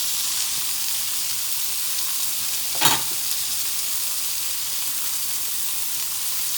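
A burger patty sizzles on a grill as it cooks, a steady, close frying hiss that holds level throughout, broken once by a brief sharper crackle midway.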